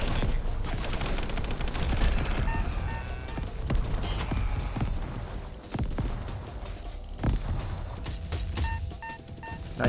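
Rapid, loud gunfire in the video game Echo Point Nova keeps up steadily, with bursts and single shots mixed with mechanical clatter. No one speaks over it.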